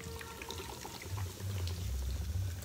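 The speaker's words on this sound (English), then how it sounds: "Pour my beer." Beer poured outdoors beside a grill, a short liquid pour and trickle heard close up and fairly faint, with low fizzing gurgle toward the end and no talking.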